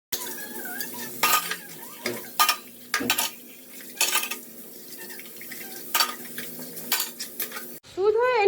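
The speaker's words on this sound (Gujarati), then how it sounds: "ફટાફટ પહેલા વાસણ ઘસી નાખું પછી તૈયાર થાઉં એમ" Dishes scrubbed and washed by hand, close clattering of utensils and pots with repeated scraping strokes and splashes, then a short burst of another sound at the end.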